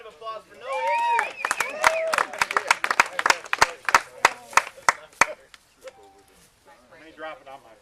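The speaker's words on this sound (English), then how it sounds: "Another round of applause for no injury." A small crew claps in a quick round of applause at a house razing, a burst of sharp, evenly spaced claps lasting a few seconds, preceded by a voice and cheer and followed by brief talk.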